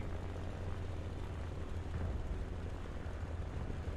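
A Bf 109 E-1 fighter plane's engine drones steadily in War Thunder, a dense, even roar heavy in low rumble that holds constant without a clear drop, with no voices.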